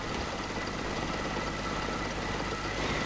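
A conventional car engine idles steadily during a tune-up after being warmed to operating temperature, a constant broadband mechanical hum with low rumble that carries on evenly throughout, with no voices.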